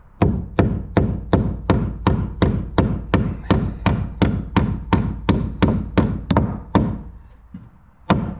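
A hammer drives nails through hurricane ties into wood, about seventeen loud, evenly spaced blows in a brisk steady rhythm, close and alone, ending after a short pause with one final strike.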